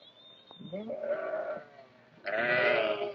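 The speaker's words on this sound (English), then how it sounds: "The sheep are used for food, and their wool is sold or woven into cloth." A sheep bleats twice, wavering calls close by, separated by a short pause in an otherwise quiet desert setting.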